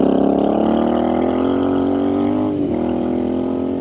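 A Royal Enfield Scrambler 650 motorcycle engine drones steadily while riding, a loud, close, continuous rumble with a slight dip in pitch near the end, no voices.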